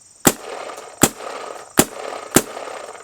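A DSR paintball marker fires four evenly spaced, punchy shots about three-quarters of a second apart, each a sharp crack with a short airy tail, close and loud with no talking.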